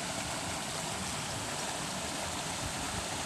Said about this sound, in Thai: น้ำตกวังเย็น